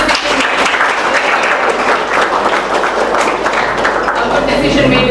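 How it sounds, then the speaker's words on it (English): A room of students claps together in steady, dense applause throughout, loud and close, with a crowd murmuring beneath it. "So clap for yourselves"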